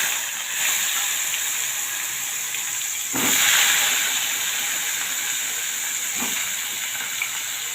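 Eggplant pieces for a Gujarati-style brinjal curry hitting hot oil tempered with cumin, mustard seeds and asafoetida, giving a steady loud hiss that swells sharply as they drop in, then settles into continuous frying.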